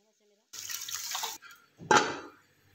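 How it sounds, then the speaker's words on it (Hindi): Three glasses of water splash into a cooking pot of haleem in a steady broadband rush for about a second, then a second brief, heavier pour follows after a short pause. "अब हम शामिल कर देंगे 3 गिलास पानी।"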